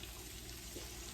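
Water poured from a tap into a cooking pan while making fish tacos, a steady, close splashing rush with no talk over it.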